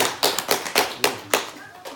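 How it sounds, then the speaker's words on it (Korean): A small group at a prune-growers' club meeting claps hands in a quick, roughly rhythmic burst of about eight sharp, close claps, with a voice partly heard beneath. "박수!"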